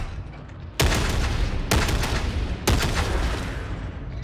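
Gunfire in Warhammer 40,000: Darktide, three heavy booming shots spaced roughly a second apart, each with a long rumbling tail, loud and close over low background noise.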